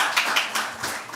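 A small audience at a poetry night claps in a brief, dense round of applause, close and fairly loud, with no talking over it.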